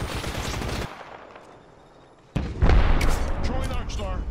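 Gunfire in Apex Legends: a rapid burst of shots, a short lull, then a louder, denser volley close by, with game voices talking over the later part.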